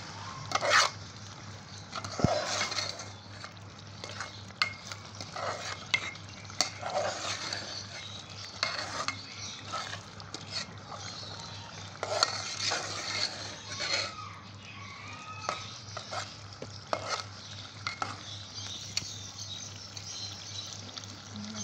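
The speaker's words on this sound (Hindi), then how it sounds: "मसाले डालने के बाद ये भुन रहा है" Soft sizzling with scraping and stirring strokes as spices fry in a pan for spicy minced meat and potatoes, irregular and fairly quiet, with a low steady hum underneath.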